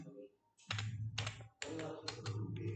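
Someone types an SQL create table command on a computer keyboard in quick, uneven bursts of clicking keys, close by, with speech running alongside.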